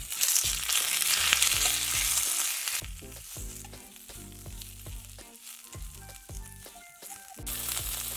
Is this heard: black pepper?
yes